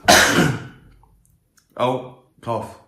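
One harsh, breathy cough up close, then a pause and two short bursts of voice.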